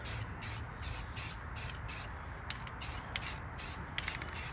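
Spray paint applied to a BMW brake caliper in bursts of steady aerosol hissing, about a dozen short sprays in quick rhythm, close to the microphone, with no voices.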